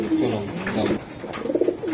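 Budapest pigeons at a breeder's farm cooing, a few soft rolling coos close by, with faint voices in the background.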